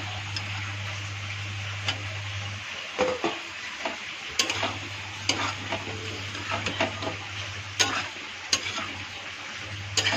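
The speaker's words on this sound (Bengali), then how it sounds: "এখন আমি কেটে রাখা ভেন্ডিটা ছেড়ে দেব" Chopped okra sizzles as it goes into a pan of frying potatoes and spices, a steady fry with a low hum and scattered clicks and scrapes of stirring.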